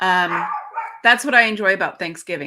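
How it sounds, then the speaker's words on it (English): A household dog yips and barks in the background while a person talks over it in the foreground. "Please pardon my dog in the background."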